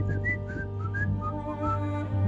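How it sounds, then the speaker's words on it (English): A person whistles a short signal whistle in a Venice neighbourhood, a few clear rising and falling notes up close over low background hum. "We even had our secret whistle,"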